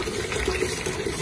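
Water running steadily from a tap while mutton intestines are washed, a continuous splashing gush close by with no talk.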